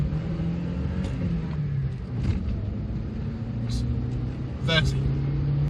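A 2004 Suzuki Jimny 1.3 JLX pulls away from a standstill up to about 40 on a bumpy airfield strip, its engine droning steadily through the gears. A few brief voice exclamations rise over the rumble.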